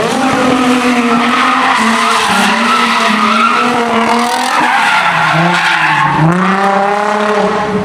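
A car engine revs hard and loud while tires screech and skid continuously as it drifts, the pitch rising and dipping as it slides close by.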